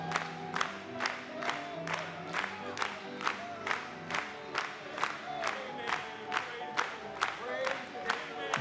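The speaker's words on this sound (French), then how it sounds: "Acclamons une fois de plus pour lui." A church congregation cheers and acclaims in praise, a steady crowd roar with regular rhythmic claps or beats about twice a second, with music beneath.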